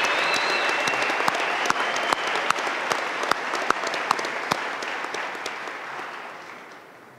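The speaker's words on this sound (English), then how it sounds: "would you everyone join me in one more round of applause for all these people who made it possible for our graduates to be here today." Applause from the audience at a Chadron State College commencement ceremony, a broad wash of clapping with a few sharp individual claps standing out, gradually thinning and fading toward the end.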